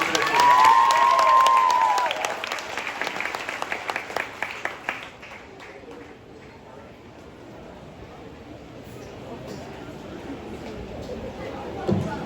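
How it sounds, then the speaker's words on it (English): Crowd at a county 4-H fair mullet contest gives a quick round of applause with some cheering, starting fairly loud with a whistle, then breaking into scattered claps and fading into murmuring chatter. "Let's give these 5 a quick round of applause here"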